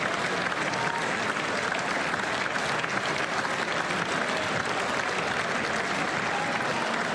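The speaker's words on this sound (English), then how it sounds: "Keep clapping." A large audience in Congress applauds at a State of the Union address, a dense, steady wall of clapping that holds at full strength throughout with no pauses.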